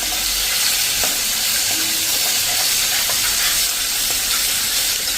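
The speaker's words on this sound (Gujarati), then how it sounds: "જે આ મેં 2 લીલા મરચાંના કટકા કર્યા છે એને પણ તેલમાં જ નાખી અને સરસ તેલમાં આપણે રોસ્ટ કરી લેશું" Pieces of green chili roast in hot oil for a Gujarati kadhi premix, giving a steady, even sizzle with occasional small pops and ticks throughout.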